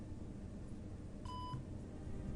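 A single clear electronic beep sounds from a telephone while a call is being placed, a short pure tone lasting about a third of a second over faint room hiss.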